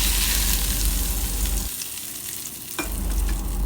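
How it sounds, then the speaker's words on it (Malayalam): Red chilies crackle and sizzle in hot oil as a tempering for mango pickle, loud and close, with stirring clatter; the sizzle drops briefly midway, then a sharp clink brings it back. "ഇതാ ചുവന്ന മുളക് മാത്രം ഇട്ടിട്ട് ഒന്ന് താളിച്ചിട്ട്"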